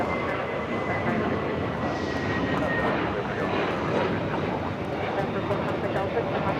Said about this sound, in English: Korean Air, Flight 18, going to start its taxi once again